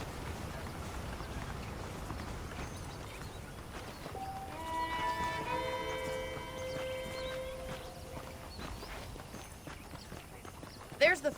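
Steady horse hoofbeats in Red Dead Redemption clip-clop along at a walking pace under speech and background music, with a brief louder clatter at the end.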